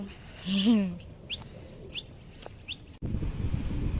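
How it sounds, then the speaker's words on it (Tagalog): Birds chirp in a few brief, high tweets spread across the clip, with a cooing call near the start and rustling noise toward the end. "Ito yung sinasabi ko sa inyong mga ibon."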